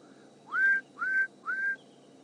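Three clear rising whistles from a scimitarbill, evenly spaced and fairly close, over a faint background hiss.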